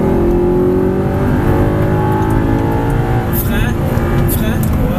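A car accelerates on a race track, its engine droning loud and steady with rising harmonics throughout, close by, under a person talking.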